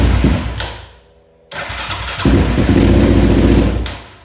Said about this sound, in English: Let's see if it'll crank over